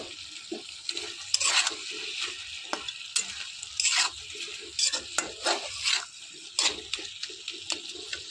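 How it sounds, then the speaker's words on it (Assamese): Potatoes frying in a pan for a local chicken curry, with a steady sizzle and repeated scraping stirs throughout, close and moderately loud, no voices. "এতিয়া মই আলুখিনি দি দিলোঁ, অলপ সিজাই দিছোঁ।"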